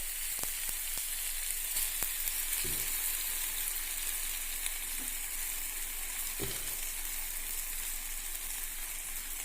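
Ground masala paste sizzles steadily in a hot pan for a Kerala-style potato peralan curry, a loud continuous frying hiss with a few faint stirring knocks and no voices.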